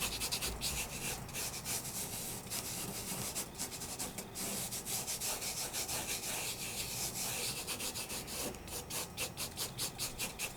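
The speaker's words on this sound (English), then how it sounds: "Take my finger. And just kind of rub it all over." A fingertip rubs Nuvo glitter across paper in a steady, continuous scratchy friction with quick repeated strokes, close and alone without talk.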